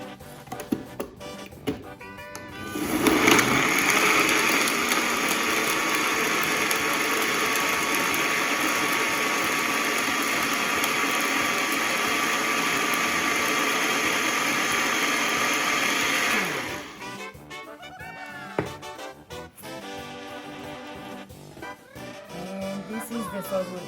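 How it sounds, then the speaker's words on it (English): A blender whirs loudly and steadily for about fourteen seconds while it purees birria sauce, then stops. Before and after it there are clattering kitchen handling noises. "And ready to blend."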